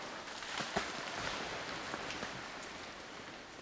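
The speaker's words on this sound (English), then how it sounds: "when they fall, they hit other branches, and then we get this rain of frozen little branches" Faint scattered ticks and light patters of small frozen branches falling through trees during an ice storm, over a soft steady hiss outdoors.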